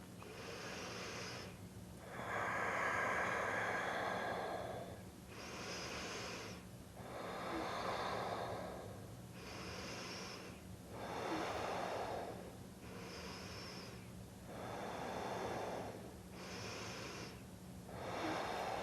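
A person seated in a yoga pose takes slow, deep breaths through the nose, about five long inhale and exhale cycles, each a soft airy rush that swells and fades, close and clear over a steady background hum.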